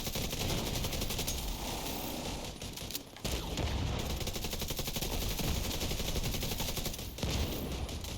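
Video game gunfire in a legendary mission: sustained automatic weapon fire rattles almost without a break, dense and steady at moderate distance, with two short lulls.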